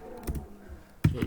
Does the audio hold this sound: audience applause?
no